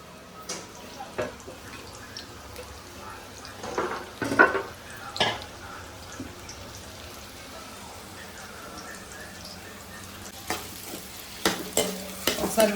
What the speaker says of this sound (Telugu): ఇప్పుడైతే ఆయిల్లో అయితే ఉల్లిపాయలు వేసేద్దాం